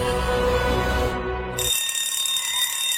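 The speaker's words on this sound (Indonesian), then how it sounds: "suaranya tenggelam dengan suara alarm kebakaran" A loud electronic alarm rings continuously, with a shrill high-pitched tone that shifts partway through, filling the whole clip without any voices.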